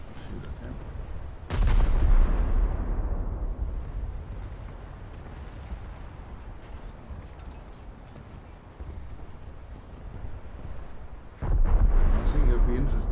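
Naval guns fire in a video game, two heavy, booming volleys about ten seconds apart with a long rumbling decay and steady wind-like noise between them.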